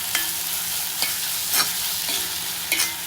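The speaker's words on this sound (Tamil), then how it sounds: "ஸோ வெங்காயத்தை நல்லா வதக்குறோம்." Onions sauté in a pan with a steady loud sizzle throughout, broken by a few brief spoon scrapes and clicks as they are stirred.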